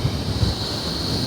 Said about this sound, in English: I don't know how much that helps in 20-mile-an-hour wind gusts.